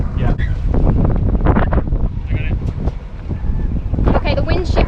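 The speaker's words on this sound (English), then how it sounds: "the wind's shifting as we're going round" Gusting wind buffets the microphone on a sailboat, with rushing air and water noise; voices speak briefly over the roar as the wind shifts.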